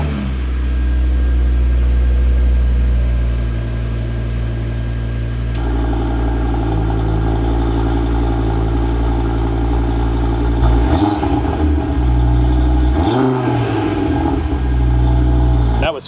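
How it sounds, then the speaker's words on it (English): An Audi RS3 fitted with an ECS valved exhaust idles high right after a cold start, recorded outside the car with a steady loud drone and a couple of brief rev blips near the end. "Cold start from outside the car."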